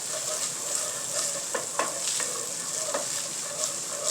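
Bacon grease melting and sizzling in a pan for gravy: a steady bright hiss with light crackles and a few soft pops, close and continuous, with no talking.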